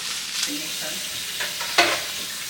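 Food browning in a pan as it is mixed, a continuous soft sizzle broken by a few brief scrapes of a utensil, close and moderate.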